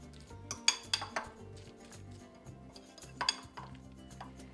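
Guacamole being stirred in a bowl with a utensil, with quiet clinks and scrapes coming in a few short bursts and faint background in between, close and without talking.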